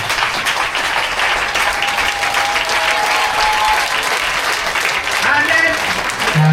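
A church congregation at a healing testimony service in Bouaké stands and applauds to acclaim God, with dense continuous clapping and voices mixed in throughout.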